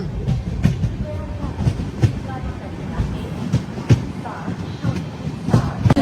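A MEMU train running from Kurnool to Guntakal Junction rolls past at Dhone Junction with loud rhythmic wheel clatter and rumble, close by, while voices are faintly heard.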